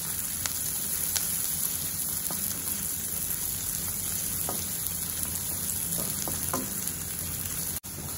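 Chopped onion sizzles steadily in a pan until light golden brown, a dense, even crackle that runs the whole time with a few sharper pops and a brief dropout near the end.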